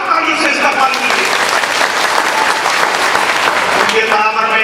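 Applause at a district-level Mansoori society conference in Bareilly, India: a dense, steady crowd clapping fills the whole stretch at an even, loud level, with faint talk mixed underneath.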